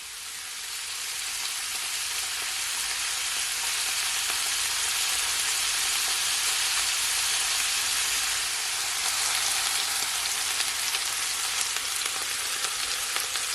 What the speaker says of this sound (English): I'm just gonna fry it, guys, for at least 4 minutes on each side